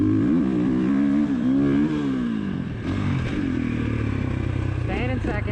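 Dirt bike engine revving and pulling in second gear while riding toward a big jump, a loud close buzzing drone that rises and falls in pitch under a rider's talk.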